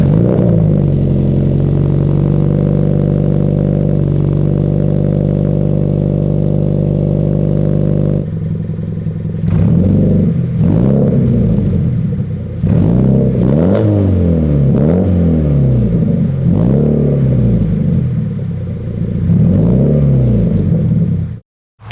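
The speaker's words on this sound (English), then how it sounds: "We're gonna give it a cold start, see how it sounds" Toyota FRS engine fired on a cold start with a new front pipe: a loud steady idle drone, then a run of sharp revving blips rising and falling, close and alone.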